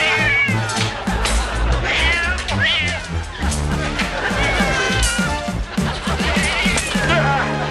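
A pet cat named Boots meows and caterwauls repeatedly and loudly, with drawn-out, rising yowls over a dense bed of music, voices and crowd babble.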